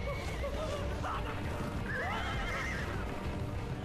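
A horse neighs in the video game Onimusha 2, giving a few wavering whinnies over rumbling background game noise. Hoofbeats clip-clop underneath at moderate volume.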